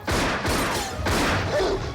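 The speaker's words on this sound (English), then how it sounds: "He'll be safe once the cops are done wildly firing at anything." Police gunfire in a movie scene, a dense, loud run of overlapping shots and booms with crashing impacts that fills the whole moment.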